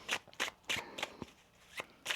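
Tarot cards being shuffled in quick riffling bursts, about six crisp papery flurries separated by short pauses, close and fairly loud with no talking.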